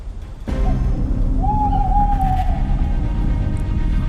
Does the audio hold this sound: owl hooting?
yes